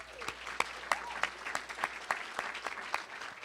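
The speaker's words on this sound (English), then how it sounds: "let's all give Renee a big round of applause" Audience applause at a Chamber of Commerce women's achievement awards event, with steady hand claps running throughout, at moderate loudness.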